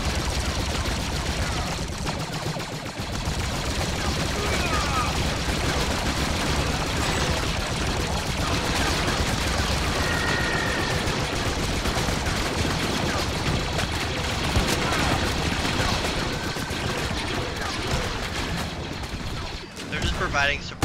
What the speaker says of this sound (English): Providing suppressing fire.